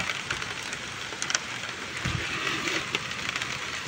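Light rain falls steadily on a vegetable garden with eggplants, a soft continuous patter close around, with a few small knocks and rustles and no talking.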